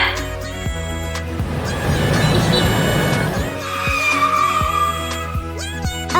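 A cartoon speeding-bike sound effect made from a car rushing past with squealing tires, loud and continuous over about six seconds, swelling in the middle, with music playing underneath.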